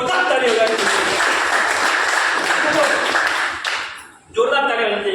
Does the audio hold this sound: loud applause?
yes